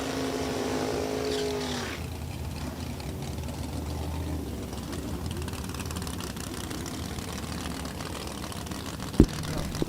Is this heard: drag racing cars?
yes